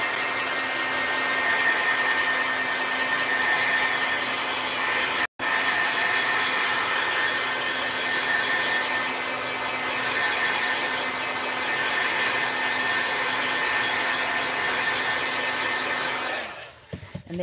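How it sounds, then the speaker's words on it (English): A craft heat tool blows steadily to dry a Perfect Pearls coating, a loud continuous whirring hiss with a faint hum, one momentary cutout, then winding down at the end. "I'm just going to put the heat tool on it real quick."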